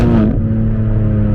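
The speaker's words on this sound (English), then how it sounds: "The redline sound in this thing is actually better than almost all other cars that I've driven before" A BMW G82 M4 Competition engine is heard loud and close, its high-revving note dropping off sharply, then settling into a steady droning hum.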